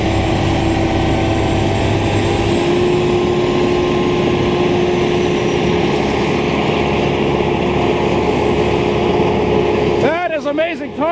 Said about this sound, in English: Look, I got a nice Western Star now to follow up that Ford.